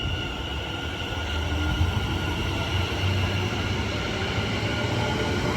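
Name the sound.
Class 730 West Midlands Railway train departing Watford Junction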